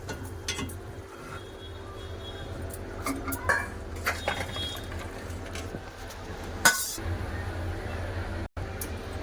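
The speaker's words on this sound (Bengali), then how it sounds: "তরকারি হয়ে গেছে এবার ঢেলে নেব" Cooked fish-head curry is ladled out of a pan with a metal spoon, giving scattered clinks and scrapes against the cookware over faint background noise.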